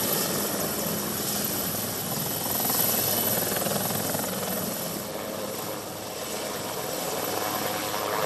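Rescue helicopter over the Girna river, a steady rotor and engine drone, moderately distant and continuous, swelling slightly in the middle.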